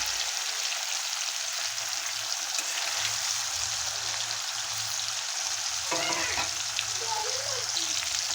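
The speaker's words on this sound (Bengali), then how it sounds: "খুব বেশি লাল করে ভাজবো না, হালকা লাল করে ভেজে নামিয়ে নেব পনিরগুলো আমি" Paneer pieces fry in a pan, lightly browning, with a steady broadband sizzle running throughout and a brief spatula scrape or stir near the end; no talking.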